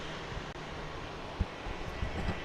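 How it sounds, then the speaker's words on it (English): A Southwest Boeing 737-800 airliner taking off at Dallas Love Field: a steady, broad jet roar held at moderate distance, with a few faint thumps over the constant noise. "Southwest 2229 is going to Miami"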